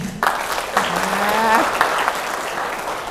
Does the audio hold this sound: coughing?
no